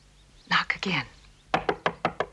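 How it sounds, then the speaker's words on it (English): Someone knocks on the door of a cottage with two quick groups of firm raps, first three close knocks and then five evenly spaced ones, loud and near. "Knock again."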